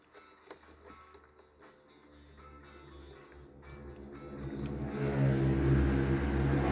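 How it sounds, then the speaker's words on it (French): Motorbikes and cars pass outside an open window, a low engine rumble that swells and grows louder toward the end as a vehicle draws near, with faint clicks and taps in the room. "Désolé pour les bruits de moto"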